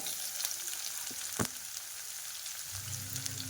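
Finely chopped garlic fries in hot oil with a steady hissing sizzle, a brief sharp crack near the middle and a low bubbling rise toward the end; nobody talks.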